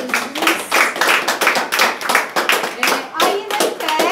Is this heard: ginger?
no